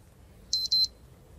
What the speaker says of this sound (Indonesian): Telepon Mas Edo. Telepon